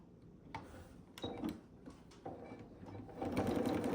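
A sewing machine stitches a seam on a baby quilt using a quarter-inch foot, sounding as short bursts of close mechanical whirring and clatter that build into a louder continuous run at the end.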